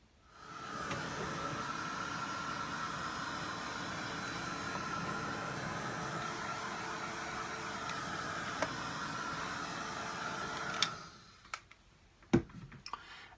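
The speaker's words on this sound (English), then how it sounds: "the blow drying that you can hear is me drying off some" A blow dryer runs as a steady, loud whooshing hiss for about eleven seconds, then cuts off, leaving a few faint clicks and taps in a quiet room.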